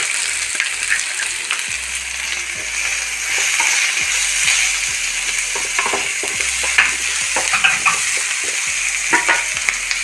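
Garlic and other chutney ingredients fry in a pan with a continuous loud crackling sizzle, broken by frequent stirring scrapes and low clunks of a spoon against the pan. No one speaks.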